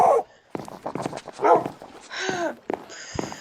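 Dogs barking and yipping in the Minecraft video game, a few short barks and whimpers in quick bursts, fairly close and loud, with brief gaps between.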